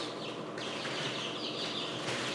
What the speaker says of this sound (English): chirping while they're hatching in the incubator?